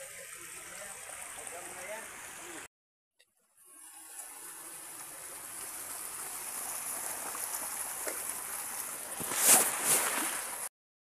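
Floodwater rushing down a road turned into a river after a landslide, a steady far-off wash of flowing water that swells louder toward the end, with a short silent gap early on.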